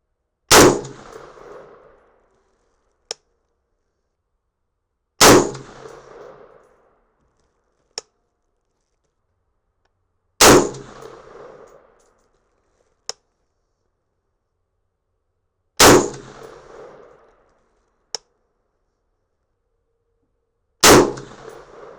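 Five loud, close .223 rifle shots firing 65gr Sierra Game King handloads with H335 powder crack out about five seconds apart. Each shot is followed by a short echoing decay and a faint sharp click between shots.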